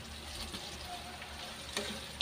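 Homemade all-lean pork tocino frying in a pan gives a steady, close hiss of sizzling oil with scattered soft crackles and a couple of sharper pops near the end.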